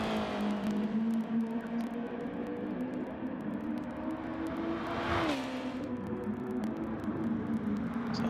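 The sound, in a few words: race car driving a cooling-down lap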